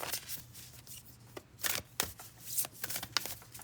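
Tarot cards being shuffled by hand at close range, a series of quick riffling bursts and soft slaps with short pauses between them, quiet and alone without speech.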